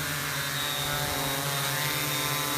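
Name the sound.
MP680Q drone flying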